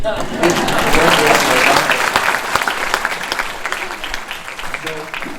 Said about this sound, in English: That wasn't a loud applause.